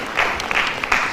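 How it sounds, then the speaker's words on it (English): Brief audience applause for a panelist at a student economics debate, a short burst of scattered clapping from a crowd. "a round of applause for her."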